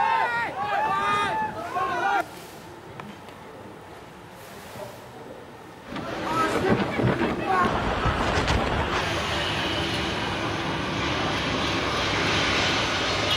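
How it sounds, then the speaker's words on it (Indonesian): Batik Air passenger jet landing on the runway at Soekarno-Hatta airport in heavy rain, a loud roaring engine rush that swells midway and holds under a steady wash of rain noise. "Sebuah pesawat Batik Air nyaris tergelincir saat mendarat di landasan pacu."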